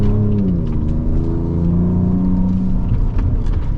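A 2024 Ford Ranger Raptor drives across sand dunes, its engine giving a loud, close rumble with a rising then falling revving note that holds steady for a few seconds, with no voices.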